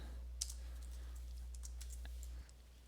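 Fingers typing C code on a computer keyboard, scattered light key clicks in short runs over a low steady hum that cuts out near the end, close and without talk.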